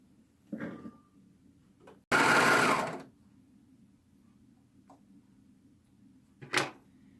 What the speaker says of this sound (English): Now we're going to sew a continuous circle all the way around the bottom.